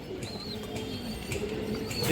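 A Hurricane-breed pigeon of old bloodline cooing softly nearby in low, throaty rolls, with faint chirps and light rustling in the background.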